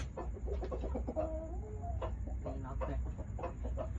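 A fighting rooster clucks in a short run of throaty calls against a steady low rumble of background noise.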